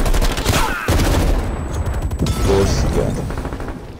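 Stoner light machine gun firing from a distance in Call of Duty Cold War multiplayer, a dense burst of rapid shots and impacts lasting a few seconds, with a voice speaking briefly over it.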